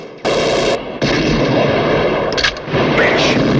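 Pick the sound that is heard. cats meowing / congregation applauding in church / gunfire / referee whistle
gunfire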